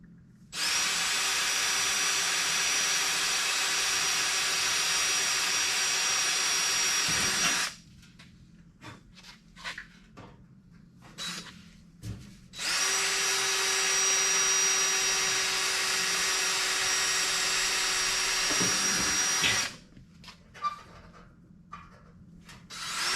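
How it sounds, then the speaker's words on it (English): A power drill bores holes in the steel trunk pan of a rusted GTO, two long loud whining runs of about seven seconds each, separated by quieter clunks and handling noises. "I'll get them drilled out a little bit bigger size"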